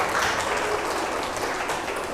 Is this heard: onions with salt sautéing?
no